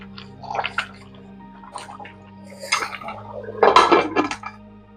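Water is poured into a metal pot of biryani rice with masala, giving splashy pours and clinks of the pot in bursts over a steady background hum.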